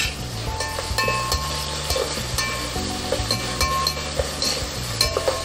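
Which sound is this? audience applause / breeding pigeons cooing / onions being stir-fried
onions being stir-fried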